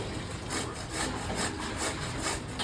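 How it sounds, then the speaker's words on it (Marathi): A peeled bottle gourd is grated by hand, giving close, repeated rasping strokes in a steady back-and-forth rhythm with no talking. "दुधी भोपळा जे आहे वरची साल काढली, आता किसून घेत आहे."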